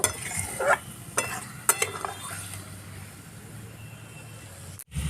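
Potatoes being sautéed and stirred in a pan, a few sharp clinks of a utensil against the pan early on, then a low steady sizzle underneath, close and fairly quiet with no voices.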